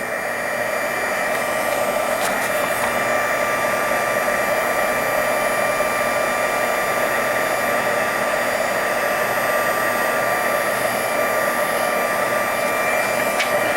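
A heat tool blows hot air to melt embossing powder in a stamping craft, a constant loud whooshing fan roar with a steady high whine, running unbroken throughout.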